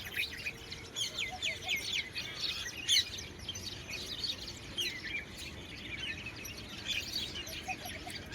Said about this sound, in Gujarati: ચકલાવનો અવાજ જોયો યાર તમે